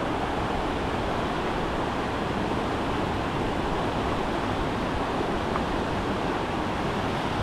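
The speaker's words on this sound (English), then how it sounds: "Look how this river is rolling, y'all." Fast, gray, glacial water of Eagle River near Anchorage, Alaska roars steadily, a dense, unbroken rush that fills the whole clip, loud and close with no voices.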